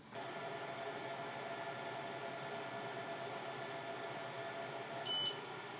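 An xTool F1 laser engraver works at 500 mm/s with a steady, even whirring hum, and a brief faint beep comes near the end.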